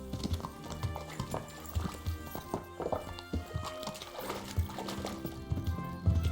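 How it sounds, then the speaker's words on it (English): Horse hooves in the medieval video game Kingdom Come Deliverance, a steady clip-clop of hoofbeats on the ground with a few heavier thumps, fairly close, with game ambience and no talk. "Cavalo."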